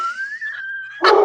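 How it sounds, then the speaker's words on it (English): A dog nearby gives a drawn-out whine followed by a sudden loud bark at the end, fairly close and clear. "I hear someone else has a dog"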